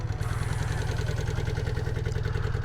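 A Honda CB250 Super Dream motorcycle engine fires up and settles into an even, fast-pulsing idle, loud and close, with a steady rhythmic chug throughout.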